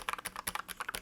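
Fast typing on a Vissles V84 hot-swap 75% Bluetooth mechanical keyboard, a rapid run of close, crisp key clacks in an uneven rhythm, alone without talk.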